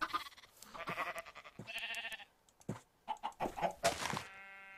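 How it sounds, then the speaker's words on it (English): Chickens in the Minecraft video game cluck in short bursts, mixed with bleating livestock sounds and scattered clicks, fairly quiet throughout. "Look at those happy chickens."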